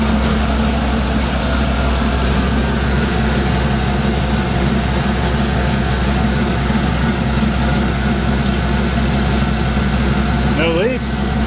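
Chevrolet Silverado truck engine idling after a transmission cooler install: a loud, steady low rumble running unchanged throughout, with a brief faint sound near the end.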